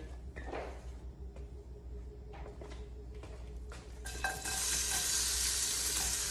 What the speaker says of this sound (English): I've added 2 tablespoons of oil to my pot. I'm gonna add the onions in.